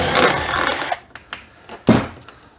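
A power screwdriver whirs steadily as a screw is backed out of a Fender FM212 solid-state reverb amp chassis, then stops, followed by a few short metallic clicks and handling knocks nearby.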